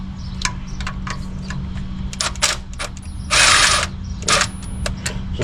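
A ratchet clicks in quick bursts, close and loud, as it loosens the adjuster bolt on the accessory belt tensioner of a 2002 Toyota Tacoma 2.7L, with a steady hum underneath.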